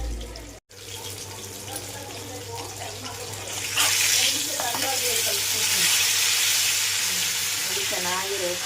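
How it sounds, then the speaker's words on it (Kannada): Fish frying in a pan for a Malnad-style fish fry, a steady close sizzle that swells louder partway through, with occasional clinks. "ಚೆನ್ನಾಗಿ ಫಿಶ್ ಫ್ರೈ ಆಗ್ತಿದೆ."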